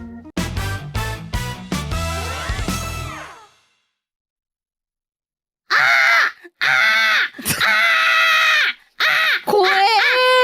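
A human voice imitates a crow, loud harsh caws repeated in two bursts separated by a few seconds of silence.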